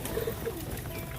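Rampuri pigeons coo softly while being fed late at night, a few short low murmurs near the start over a steady background hum, with no voices.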